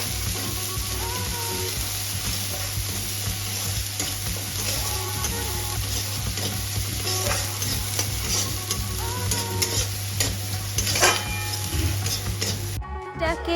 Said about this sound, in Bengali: পেঁয়াজটাকে একটু ভালো করে নেড়ে চেড়ে এরপর আদা রসুন বাটাটা মা দিয়ে দিল